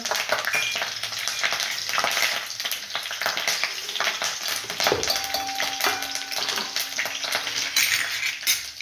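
Curry leaves and garlic frying in a pan, a dense crackling sizzle with clinks of a spoon against metal and a sharp pop partway through, close and steady with no talk.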